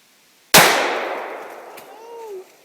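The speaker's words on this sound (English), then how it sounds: "That is how you blow a pumpkin up." A .308 rifle shot blows apart a water-filled pumpkin outdoors: one sharp, loud crack with a long decaying spray and rumble, followed by faint whistling tones near the end.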